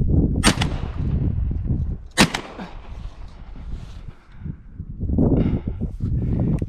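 Two loud, sharp shotgun blasts from a side-by-side double-barrel fire while hunting thrushes outdoors, each with a quick echoing tail, set against steady background rustle and breeze.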